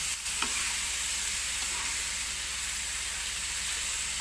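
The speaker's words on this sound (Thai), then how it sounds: "หมูผัดหน่อไม้นะคะ หน่อไม้พริกแกงค่ะ ใส่หมูสามสัตว์พี่น้อง" Pork stir-fried with bamboo shoots and red curry paste sizzles loudly and steadily in a hot pan, a dense close-up frying hiss with faint stirring and no voices.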